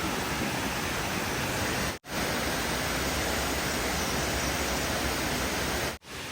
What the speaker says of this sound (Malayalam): പിന്നെ ലെഫ്റ്റ് സൈഡിലൂടെ കാണാം നല്ല അരുവി ഒഴുകുന്ന സൗണ്ട്